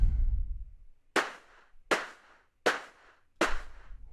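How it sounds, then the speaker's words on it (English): A clap sample meant for layering into a snare hits four times alone in an even, sharp rhythm, each crack bright and fast-decaying, following a low rumbling tail at the start. "you get that clap"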